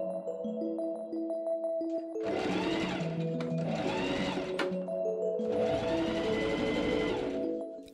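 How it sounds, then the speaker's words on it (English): Sewing machine stitching a tiny hem on a linen wrap dress bodice neckline runs in three steady whirring bursts, near and loud, over a constant background hum. "I also machine sew a tiny hem into the front of the bodice neckline."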